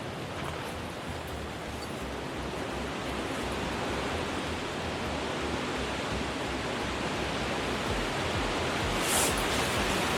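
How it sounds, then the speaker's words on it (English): Wind roars across a cold campsite at night as a dense, steady rush of broadband noise. It stays loud and continuous with no voices, and a brief high gust sweeps through near the end. "Can you hear this wind? Listen."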